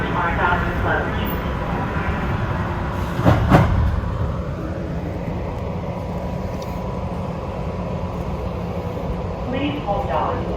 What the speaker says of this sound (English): Please hold on. The train is departing.